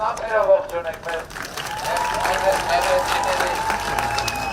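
Audience applause greeting residents of Meghri at a public address in Armenia, a steady wash of clapping hands that builds and holds for several seconds, with crowd murmur mixed in.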